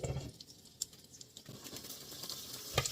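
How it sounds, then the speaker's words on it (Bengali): Egg frying under a lid in a covered pan, a faint, soft patter and crackling sizzle with occasional small pops. "এখন আবারও ঢাকনা দিয়ে ঢেকে 1 মিনিটের জন্য ডিমটাকে ভেজে নেব"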